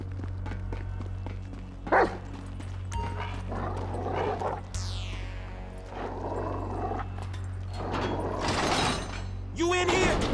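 A dog barks in the video game GTA V, a few loud barks mixed with game clatter, mechanical noises and scattered voices.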